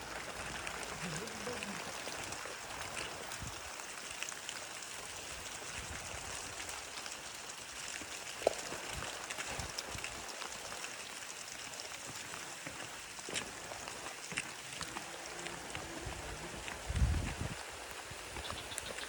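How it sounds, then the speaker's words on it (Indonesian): Sudden rain falls in a remote village between rice fields and forest, a soft continuous hiss of drops on surfaces heard at a distance, with a few faint knocks and brief sounds mixed in. "Tiba-tiba hujan."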